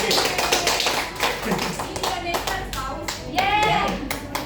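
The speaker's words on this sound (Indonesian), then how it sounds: "Beri aplaus untuk ketiga." Classroom applause for the top three winners: a group of people clapping in a steady, fairly close patter of many hands, with voices and children's chatter mixed in.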